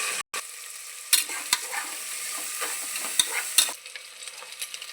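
Onions, fenugreek leaves, mint and ginger-garlic fry in a pan with a steady sizzle, under close scraping and stirring with occasional knocks of the spoon.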